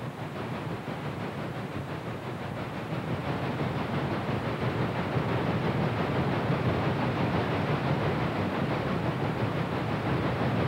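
Chesapeake and Ohio steam locomotives 3004 and 3018 doublehead a long, heavy eastbound coal drag with 3032 pushing, heard from a distance as a steady broad rumble and roar that swells slightly and holds throughout.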